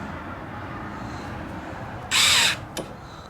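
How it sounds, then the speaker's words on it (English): A power drill drills holes into a Ford Transit van, one loud burst of about half a second against steady background noise, followed by a brief second touch of the bit. "So I can just drill those holes."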